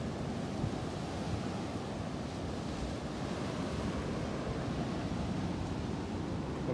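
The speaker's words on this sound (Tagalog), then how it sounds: "Sarap yung alon ng tubig" Sea waves washing onto a sunny shore, a continuous close roar of surf with wind buffeting the microphone, and no voices.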